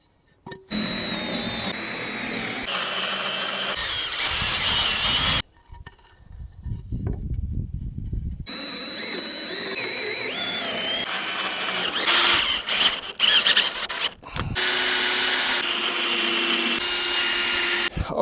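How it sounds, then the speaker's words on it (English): Loud, continuous power-drill whine boring through a 2x4, running in long bursts with a brief quieter pause in the middle; no talking. "then from there we'll drill our hole through it"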